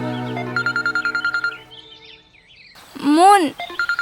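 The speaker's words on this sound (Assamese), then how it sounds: "তোমাৰ ফোন আহিছে কোন হয় চোৱাচোন" Phone ringing with an incoming call in an Assamese short film, a rapid pulsed electronic tone repeating in short bursts. It is interrupted by a high voice and returns briefly at the end.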